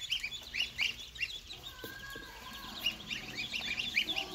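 Muscovy ducklings at a duck hatchery farm in Can Tho, peeping in rapid overlapping high chirps from many birds nearby, with a few lower honking calls mixed in and no talk.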